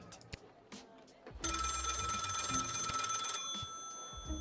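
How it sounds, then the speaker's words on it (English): Telephone ringing in the video game Lil Guardsman: a steady bright electronic ring holds for about two seconds after a few soft knocks and thuds, with game sounds continuing afterward. "Phone's ringing."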